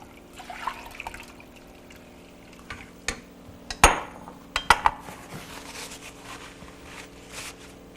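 Milk trickles slowly into a pot while a spoon stirs, making a faint continuous liquid pour punctuated by a handful of sharp taps and clinks against the pot's side.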